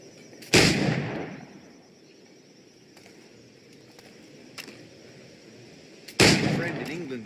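Two loud, close firearm shots from Assassin's Creed Black Flag, spaced about six seconds apart, each a sharp blast with a short ringing tail over a quiet background.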